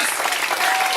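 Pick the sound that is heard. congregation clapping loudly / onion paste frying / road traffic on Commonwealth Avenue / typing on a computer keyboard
congregation clapping loudly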